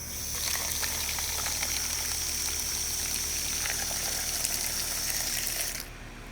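Tap water gushes steadily while a container is rinsed out during a garden tour, a close, continuous rushing splash that runs for several seconds and then drops off abruptly near the end.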